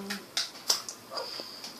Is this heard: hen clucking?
no